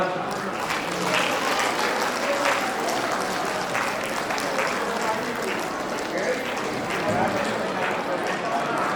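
Audience applause at a Tamu Samaj community gathering in Pokhara, a steady dense wash of clapping from a crowd that runs unbroken through the whole stretch, with faint voices mixed underneath.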